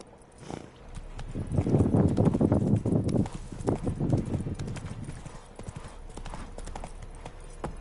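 Horse hooves gallop loudly in The Witcher 3, a fast close clip-clop that swells and then eases off, with no talk over it.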